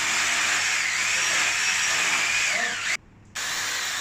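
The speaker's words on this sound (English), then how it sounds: "they will start to drill a 45-degree hole" Power drill boring a 45-degree hole into an opened plaster ceiling for polyurethane leak injection, a steady high whine with pitch shifts, briefly cut off near the end before resuming.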